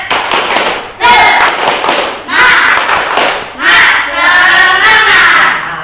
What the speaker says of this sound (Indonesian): yuk kita tepuk semangat dulu. Tepuk semangat.